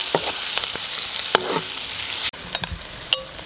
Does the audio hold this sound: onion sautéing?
yes